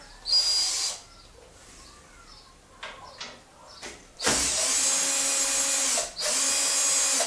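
A 1/4 inch drive deep socket undoes nuts and bolts during a teardown, heard as a close, loud whirring power-driver burst, then quieter clicks and small tool knocks, then two longer sustained whirring runs.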